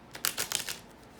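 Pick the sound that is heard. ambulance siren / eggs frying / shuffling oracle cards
shuffling oracle cards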